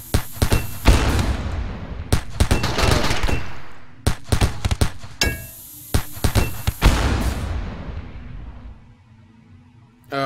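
Turrets firing at raiders in RimWorld: loud, dense bursts of rapid gunfire and booming impacts, repeated in clusters with short breaks, fading near the end.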